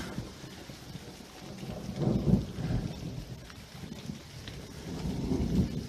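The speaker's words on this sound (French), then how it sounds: "l'orage il est tombé pas loin. Enfin, la foudre." Rain falls during a night thunderstorm as deep thunder rumbles swell twice after a nearby lightning strike, rolling and heavy, over the steady hiss of the downpour.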